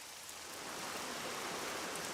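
Steady heavy tropical storm rain pours down on Rurutu in a dense, hissing wash that swells slightly louder after the first moment.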